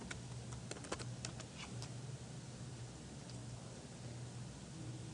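Typing on a computer keyboard, a quick burst of light clicks in the first two seconds followed by a couple of isolated taps, close and fairly faint over a steady low hum.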